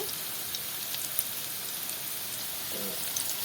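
Pitha frying in hot oil after being turned onto its other side, a soft steady crackling sizzle with scattered tiny pops, quiet and close, no voices.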